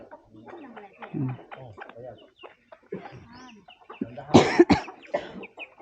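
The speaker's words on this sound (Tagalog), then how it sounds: "Mga manok." Chickens cluck and squawk nearby, with a louder burst of clucking toward the end, while a person talks quietly.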